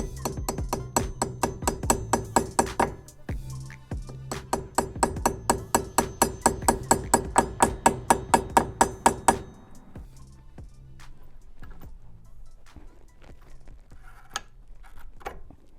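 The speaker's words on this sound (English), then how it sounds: "we're going to hammer the pins from the back side" Rapid, evenly spaced metallic hammer strikes ring out close by as brake pad pins are driven in on a McLaren, dozens in a row with a brief pause, then a few scattered taps.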